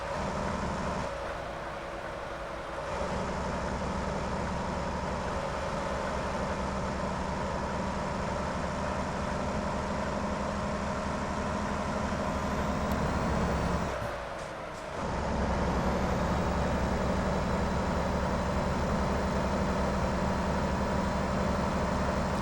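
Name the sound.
truck engine revving through gears in a trucking video game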